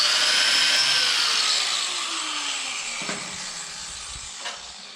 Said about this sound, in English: we're going to take a quick wire brush so we have a nice clean surface so we can see our marks